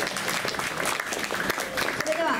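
Audience applause at a joint concert by the Kyoto and Nara prefectural police bands, a steady wash of clapping filling the hall with speech partly over it.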